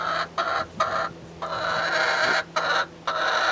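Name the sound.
chickens clucking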